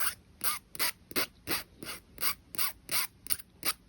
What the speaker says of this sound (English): One last thing to do is to smooth out this end